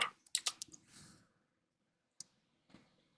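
A short run of computer keyboard typing on a streaming setup, a quick cluster of close clicks followed by two isolated single keystrokes after a pause.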